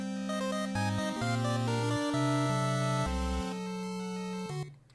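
A loud, distorted synthesized end-target sound effect from a Unity video game plays alone, stepping through a sequence of buzzy, harmonically rich tones before breaking into a harsh noisy burst at the end.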